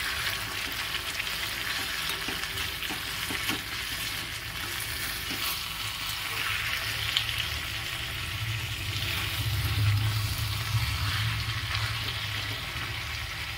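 Masala spice paste for paneer ghugni frying slowly in a pan over a low, simmering gas flame, a steady soft sizzle with occasional stirring scrapes, close and continuous, no voices.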